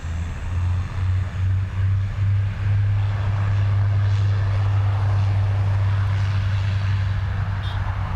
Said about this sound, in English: And runway 10 right, you are clear to take off.